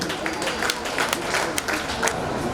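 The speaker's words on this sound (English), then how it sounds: "Please clap for him." Steady applause from a crowd, dense clapping filling the space continuously with a few sharper claps standing out.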